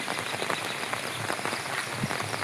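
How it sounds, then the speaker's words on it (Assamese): Rain falls on surfaces near a riverside embankment in Assam, a steady patter of many drops with scattered louder splats, moderately faint and continuous with no talking. "বৰষুণে এৰা নাই দেখিছে নহয়"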